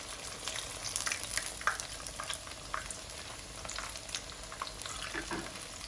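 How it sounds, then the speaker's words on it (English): Tofu meatballs frying in hot oil, a soft continuous crackle and sizzle close by with occasional brief spatters, fairly quiet and without talk. "We'll fry our meatballs now."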